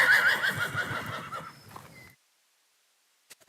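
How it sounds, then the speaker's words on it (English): Donkeys on a ranch bray loudly in protest, a harsh close honking call that fades out, followed by silence and a couple of brief knocks. "The donkeys are protesting, not having their time."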